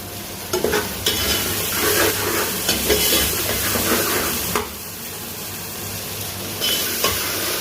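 Cumin seeds crackle and sizzle in hot oil for daal mash, a steady close frying hiss with stirring scrapes and a few sharper spatters throughout, no talking.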